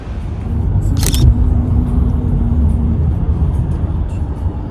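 A rental car drives along a road toward Provincetown, with a constant loud low engine and road rumble inside the cabin and a brief sharp click near the start.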